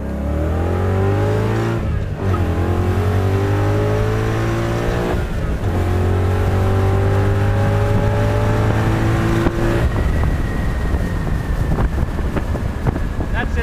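A modified car with Coyote engine power and Griggs suspension accelerates hard through the gears, engine note climbing loud and close in repeated rising sweeps with brief drops at each shift, wind buffeting the microphone and no talk.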